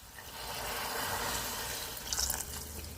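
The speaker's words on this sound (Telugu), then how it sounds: "కొంచెం వాటర్ వేసుకుందాము" Water pours steadily into a pan of brinjal and drumstick curry, a continuous splashing rush that runs for a few seconds and swells briefly near the end.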